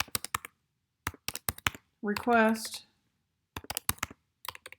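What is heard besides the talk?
typing on a computer keyboard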